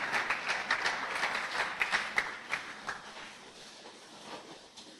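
Church congregation applauding during a French-language service, a loud burst of clapping that peaks early and then fades out over a few seconds.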